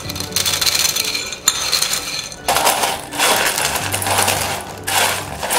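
Crisp crackling and crunching as crispy tomato murukku snack is crushed into pieces, several bursts of brittle breaking with short pauses between them, close and fairly loud.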